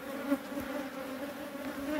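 Honeybees swarm and buzz around a wild honeycomb on a risky cliff rock face, a steady close droning hum with no voices.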